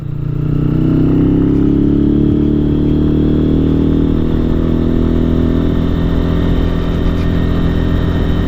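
A KPR200 motorcycle engine drones steadily while riding, loud and close, with a low rumbling hum and a slight pitch drop as it cruises.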